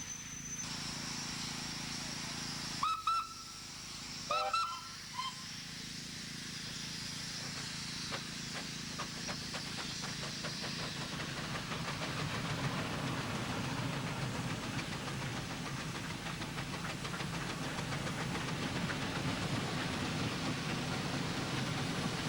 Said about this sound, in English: The engines on the front are doing the work, and the rear engine is there as a brake.